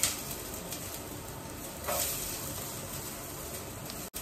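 Chopped onions sizzling and caramelizing in a spoonful of ghee in a pan, a steady soft hiss of frying throughout with a brief swell of crackle partway, fairly close and without talk.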